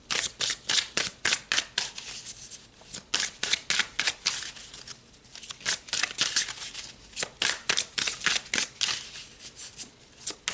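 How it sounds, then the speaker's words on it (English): Tarot cards are shuffled and pulled in rapid, crisp riffling bursts that repeat steadily throughout, close and fairly loud, with no talking over them. "Let's pull some more cards."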